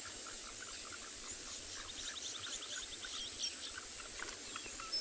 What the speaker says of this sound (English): what you hear on the background also, it's all tree frogs.